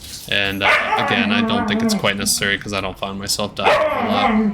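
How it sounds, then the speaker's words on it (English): A husky and other dogs bark and yip off to one side, a loud, frequent yapping mixed under a man's steady, close talking. "Sorry for the dogs again."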